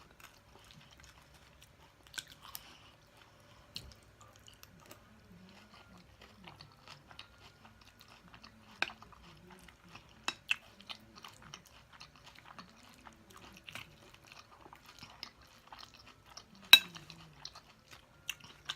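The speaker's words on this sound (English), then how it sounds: "Forgot to crunch that chip up." Crunching Dorito-style chips while eating loaded nachos and a vegetarian taco salad: sparse, close bites and chewing crunches, quiet overall with a few sharp louder snaps.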